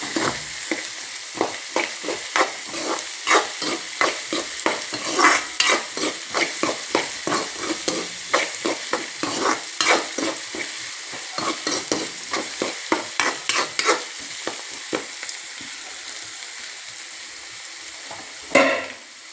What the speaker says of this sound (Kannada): ಈರುಳ್ಳಿಯನ್ನು ಹಾಕಿಬಿಟ್ಟು ಇದನ್ನು ಚೆನ್ನಾಗಿ ಕೈಯಿಂದ ತಿರುಗಬೇಕು ಫ್ರೆಂಡ್ಸ್.